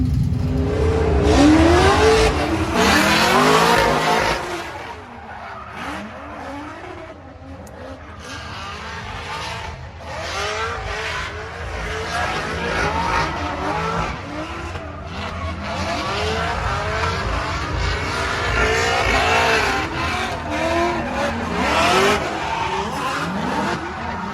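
A race car running a practice lap at a drag racing qualifying day, a loud, sustained engine roar with rising and falling revs and tire squeal, continuous and close for the whole stretch.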